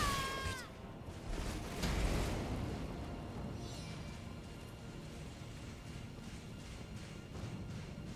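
A house cat meows close by in a room, a short cry near the start over loud background game sound, with no talking.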